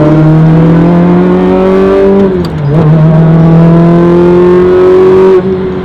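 A manual Ferrari 360 Challenge Stradale engine revs loud and close, climbing in pitch, dropping briefly on a gear change, then pulling hard again before cutting off.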